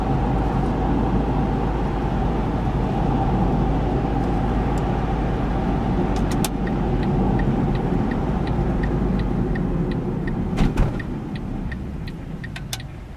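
2009 Smart Fortwo Passion Coupe cruising in fifth gear, a steady in-cabin engine and road drone holding constant, with faint sporadic clicks and ticks over it.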